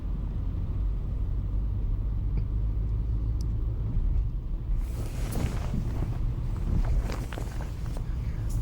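1999 Daewoo Leganza with a 2-litre engine accelerating, a steady low rumble heard from inside the moving car, joined by wind and road noise that grow rougher toward the end, no speech.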